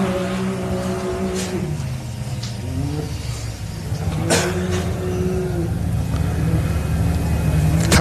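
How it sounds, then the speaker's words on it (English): A 4x4 race vehicle at the Loveday 400 in the LoveDay 4x4 Adventure Park launches off the start line, its engine note revving and rising loudly and close while a commentator talks over it. "Kate Swinglehurst off the line there in the Swinglehurst Motorsport entry."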